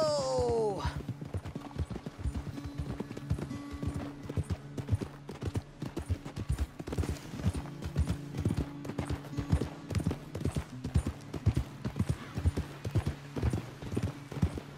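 Horse hooves galloping in Red Dead Redemption 2, a steady rapid clip-clop close up that runs the whole stretch, with a brief whinny-like rising tone near the start.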